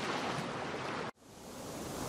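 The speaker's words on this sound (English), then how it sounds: "they withstand crashing waves" Stormy sea surf crashing in a steady broadband roar, breaking off abruptly midway, then swelling back into continuous rushing wash, loud and with no voices.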